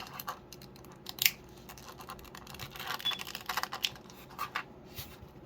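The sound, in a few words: pulling individual cards out of action figure packaging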